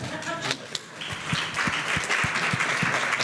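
An audience at the Skrzydła Ekologii award gala breaks into applause, sparse claps at first swelling into a steady, even ovation that carries through to the end.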